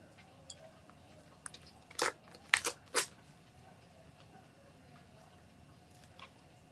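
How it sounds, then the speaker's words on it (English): Noisy chewing and crunching, a few distinct bites in a tight cluster near the middle, close and moderately loud against a quiet room with no talk. "he is chewing this up. It sounds so disgusting."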